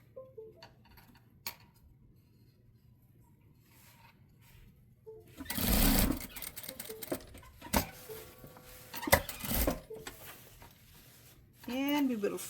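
A sewing machine runs in short, close bursts while stitching binding onto a blouse, with stretches of quiet handling between runs and someone talking over parts of it.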